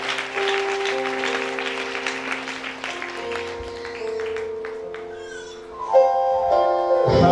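Audience acclamation at a book dedication and presentation, applause and cheering that fade while sustained organ-like music plays and grows louder toward the end.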